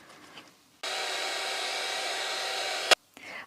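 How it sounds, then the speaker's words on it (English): A heat gun blows steadily for about two seconds while drying paint on a rustic autumn craft piece, a close, even hiss-roar that switches on abruptly and cuts off with a click. "I'm just going to dry this now with my heat gun again."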